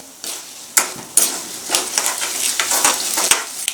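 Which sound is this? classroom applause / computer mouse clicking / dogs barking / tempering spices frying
tempering spices frying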